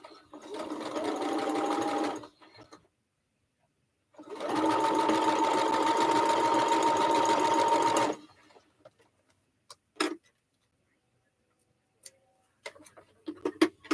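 Sewing machine stitching a quilt block: two sustained bursts of rapid, close mechanical whirring separated by a pause, followed by quieter clicks and handling knocks.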